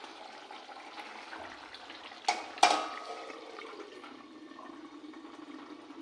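Water poured out of a plate in a home kitchen, heard as a steady, soft gush with two sharp splashes or clatters in the middle before it trails off. No one speaks.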